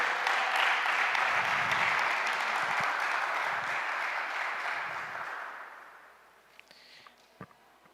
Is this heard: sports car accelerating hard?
no